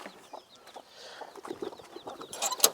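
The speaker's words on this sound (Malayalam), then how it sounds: "ഇപ്പോൾ കുറച്ച് കോഴിക്കുട്ടികളൊക്കെ ഉണ്ടായിട്ടുണ്ട്" Chickens and small chicks clucking and peeping inside a coop, a run of soft, scattered calls that grows louder and busier toward the end.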